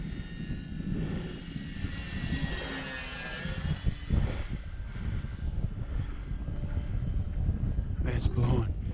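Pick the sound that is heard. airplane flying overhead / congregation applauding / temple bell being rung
airplane flying overhead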